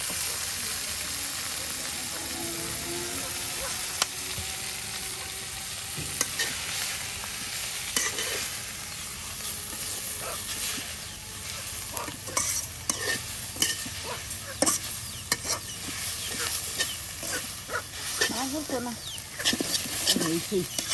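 Moringa leaves frying in oil in a rural village kitchen, with a steady sizzle under repeated scraping stirs of a spatula in the pan, and people talking faintly nearby.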